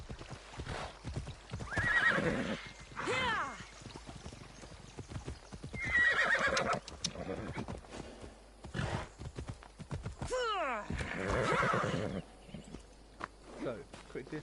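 A horse in the Assassin's Creed Odyssey video game gallops with fast clip-clop hoofbeats and neighs loudly several times, with someone talking over it.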